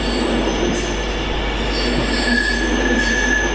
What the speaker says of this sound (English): coming in next now is another Avanti West Coast Pendolino